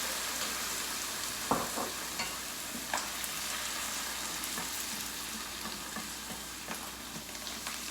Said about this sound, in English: we're going to put a little bit of wine in here, just to deglaze.